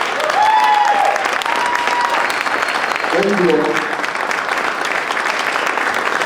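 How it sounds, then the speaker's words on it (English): Crowd applause at a restoration of civil rights event honors the people on stage, a loud, dense wash of clapping that carries throughout while a voice speaks over it and brief tonal sounds rise midway. "Let's give everybody up here a great big round of applause"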